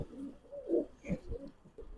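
High-flyer pigeons give soft, low cooing calls in a quick sequence, close and muffled against a quiet background.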